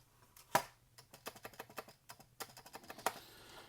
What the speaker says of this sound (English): putting the keys back as per the photo